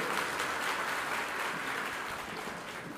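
An audience at a Shivaji cultural festival lecture claps steadily in a dense, continuous patter that stays fairly even and fades slightly toward the end.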